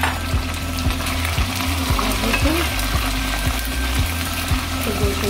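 Mutton and onions with ginger-garlic paste fry for nihari in a pan, giving a dense, loud, continuous sizzle close up with a regular scraping stir about every half second.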